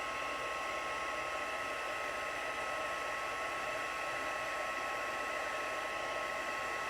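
Heat tool blowing steadily onto embossing powder on cardstock, a constant close-range airy roar with a faint whine, unbroken and with no talking.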